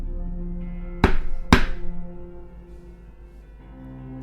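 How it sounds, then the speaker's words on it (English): Two loud, heavy bangs on a door, about half a second apart, ring out over a quiet low drone in a narrated creepypasta horror story, then fade into silence. "There was a loud banging."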